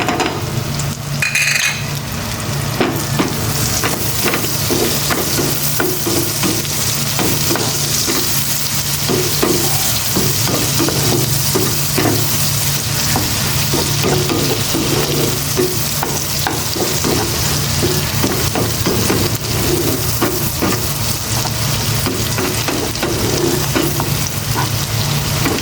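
Onions fry hard in a pan and crackle loudly up close while a utensil scrapes and stirs in a busy, irregular rhythm.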